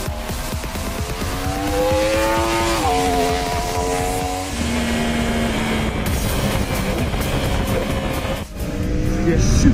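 A 2015 Yamaha YZF R1 M superbike screams around a racing circuit, its engine tone climbing and dropping through gear shifts at high revs, loud and close as if on board, with someone speaking over it.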